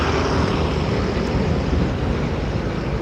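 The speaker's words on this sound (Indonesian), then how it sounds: "Suaranya kayak motor baru kan?" A Yamaha Mio M3 scooter engine, freshly rebuilt, runs steadily at idle as a continuous broad mechanical drone with no talking.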